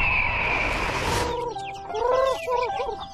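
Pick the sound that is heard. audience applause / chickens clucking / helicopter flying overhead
chickens clucking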